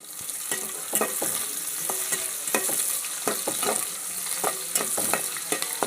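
Ingredients for fish stew frying and being stirred in a pan, a steady bright sizzle broken by repeated scraping strokes of the spoon, close and alone without talk.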